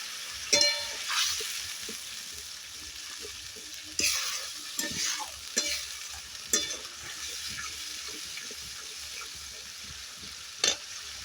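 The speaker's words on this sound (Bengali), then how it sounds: "মশলাটা কষাতে কষাতে সুন্দর তেল ছেড়ে দিয়েছে" Spice paste fries in oil for a koi fish curry with a soft sizzle, broken by intermittent sharp scrapes and clatters of a spoon stirring it in the pan.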